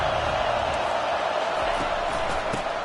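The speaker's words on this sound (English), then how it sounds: "listen to the roar of this crowd" Roaring crowd at a Michigan at Oregon college football game, a loud sustained wash of cheering noise throughout.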